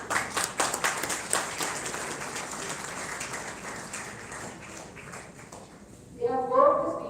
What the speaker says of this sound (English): I would like to have a big round of applause for Mr. Vijay Devi.